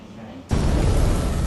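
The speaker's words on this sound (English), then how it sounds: "There's a little explosion in it as well." A sudden explosion effect in a video intro bursts in after a quiet half-second, a loud, sustained rumbling blast that fills the rest of the moment.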